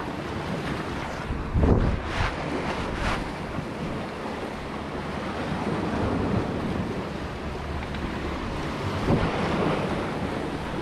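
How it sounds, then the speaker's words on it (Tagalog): A steady roar of rushing water fills the scene, broad and constant, with gusts of wind buffeting the microphone now and then. "Lakas ng agos oh. Kala mo ilog."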